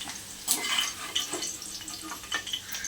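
Okra fries in hot oil while a spatula stirs it, giving a steady close sizzle broken by scraping and clinking strokes against the pan, with no voices.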